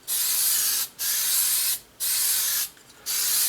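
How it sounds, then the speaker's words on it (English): Four bursts of aerosol top coat sprayed onto cast iron, each about a second long, separated by brief pauses, loud and close. "we'll just give it a little spray."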